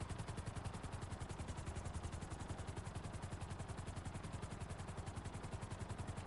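A helicopter in GTA Online hovers during a Cayo Perico heist, its rotor thudding in a steady rapid rhythm that stays faint and unbroken throughout, with no voices.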